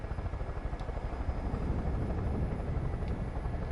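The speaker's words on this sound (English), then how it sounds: "I'm getting out of the chopper." A helicopter in the Far Cry 5 video game thrums with a steady rapid rotor beat and engine drone, loud and close, continuing evenly without any talk.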